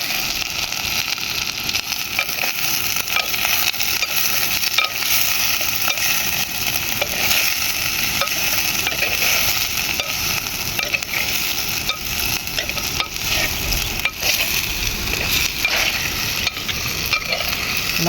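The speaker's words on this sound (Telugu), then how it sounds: "ఇలా వేసుకున్న వెంటనే ఈ గరిటతో బాగా కలుపుకోవాలన్నమాట" Dried goat meat and onions frying in oil, stirred steadily with a ladle for Odisha-style curry; a constant close sizzle with scraping stirs throughout, no talking.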